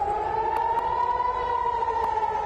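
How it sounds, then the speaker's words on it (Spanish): An air raid siren sounds across Israel as one steady, sustained wail, loud and unbroken, with a few faint clicks. "las sirenas antiaéreas sonaron en todo el territorio de Israel"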